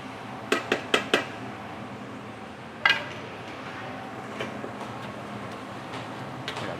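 Garlic and shallots being stir-fried in a pan, with a quick run of four sharp metallic clinks of a utensil against the pan, one louder clank, then faint scattered taps over a low background hum.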